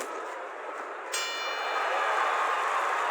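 A boxing bell rings once to close a round in the Fight Night video game, its bright metallic ring starting about a second in and sustaining over a steady crowd roar to the end, with no talk.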